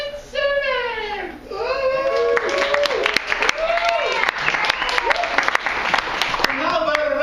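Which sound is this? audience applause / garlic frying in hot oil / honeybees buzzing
audience applause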